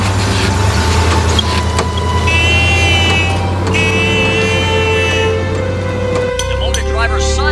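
A small car's engine drones steadily and loudly, a low constant hum with higher whining tones over it, shifting pitch near the end.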